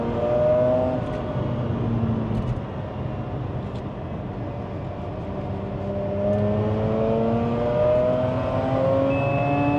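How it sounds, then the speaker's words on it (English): A Mazda RX-8's rotary engine drones steadily from inside the car while driving, with rising and falling engine tones as it revs through the gears. "It's because it's rotary, you know, it just sounds like it's going fast without going fast."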